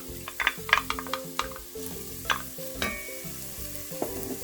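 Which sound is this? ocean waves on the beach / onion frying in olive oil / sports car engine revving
onion frying in olive oil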